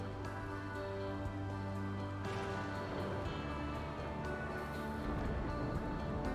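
Rain pours steadily in a farming video game, a dense continuous hiss of falling drops over a layered ambient backdrop, even and unbroken throughout with no voices.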